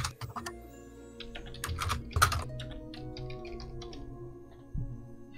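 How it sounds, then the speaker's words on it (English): Fingers tap on a computer keyboard in uneven bursts of clicks, close by and fairly quiet, with a few heavier key presses. "I feel like I'm typing my password every time."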